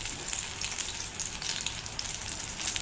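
Bhaji fritters made from thin slices of ridge gourd frying in hot oil in a pan over a lowered flame, a steady, even sizzling hiss, close and moderately quiet with no talking.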